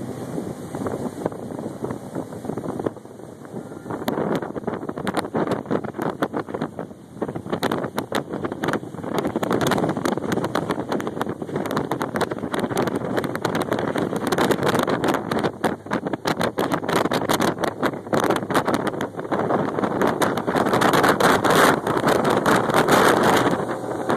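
A 2012 Harris 220 Cruiser tri-toon with a new 150 HP outboard runs on the water, a steady engine drone mixed with rushing wind across the microphone, growing louder and rougher toward the end.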